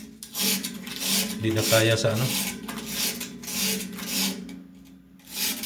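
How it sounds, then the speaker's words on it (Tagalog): Sandpaper scrubs across a metal piece being cleaned and polished, producing loud, continuous rasping strokes in a steady back-and-forth rhythm, close up, with a brief spoken remark mixed in. "patulong tayo ng liha."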